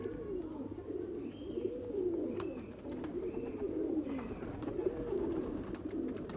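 Sailkoti pigeons give soft, repeated throaty coos at close range over about six seconds. The rolling calls come in a steady rhythm against a quiet background hum, with no voices.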